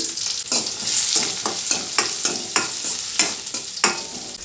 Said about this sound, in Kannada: ಈಗ ಇದಕ್ಕೆ ಈರುಳ್ಳಿ ಮತ್ತು ಬೆಳ್ಳುಳ್ಳಿ